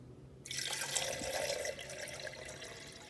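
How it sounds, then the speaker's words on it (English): Water is poured back into a glass beaker during a refraction demonstration, starting as a sudden splashy rush that then settles into a softer, steady trickle, quiet and close. "Pour the water back in, and they're gone."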